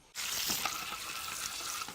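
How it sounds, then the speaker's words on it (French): Carrot pieces cooking in butter in a pan, a steady close sizzle and hiss of frying that starts abruptly and continues evenly without talk. "Je mets ma carotte dans le beurre, j'ai presque pas besoin de la regarder. J'écoute mon beurre, comment il réagit."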